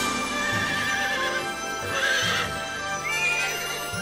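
Cartoon pony giving loud whinnying neighs over a rhythmic clip-clop of hooves, close and prominent with a steady background bed.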